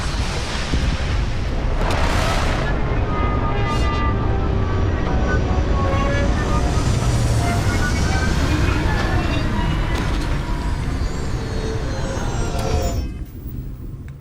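A spaceship landing in the Starfield video game, a loud sustained rumbling roar with rising whooshes and tonal sweeps, cutting to near silence at the end.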